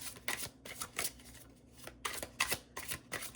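A deck of oracle cards is shuffled by hand for a tarot-style reading, with crisp riffling bursts repeating in an uneven rhythm, close and fairly quiet.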